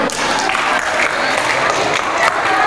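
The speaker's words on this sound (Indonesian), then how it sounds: "Tepuk tangan, betul." Audience applause fills a training session on active reading and productive writing, a dense, steady patter of many hands clapping close and loud throughout, with no voice over it.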